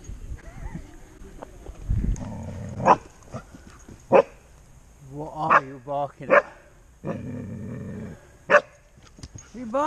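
A Belgian Malinois and German Shepherd cross dog barks at a tree stump in scattered sharp bursts, mixed with growls and whines, while a person talks nearby between the barks.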